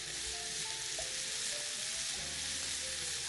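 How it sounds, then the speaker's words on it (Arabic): Pasta sauce sizzles in a frying pan while being stirred, a continuous close hiss with faint scraping, steady throughout. "ونحرك نحرك نحرك لحد ما تغلي"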